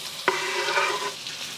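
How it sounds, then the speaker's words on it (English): Chopped onions and the white and light green parts of green onions fry in leftover bacon fat, a soft steady sizzle with a brief stirring clatter near the start. "I'm gonna leave the remaining bacon fat and adding my onions and the white and light green parts of the green onion right into the middle"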